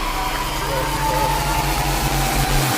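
A motorcycle engine idles and putters close by on a mountain trail at a bike outing, a steady low rumble that fades out at the end, with people talking over it.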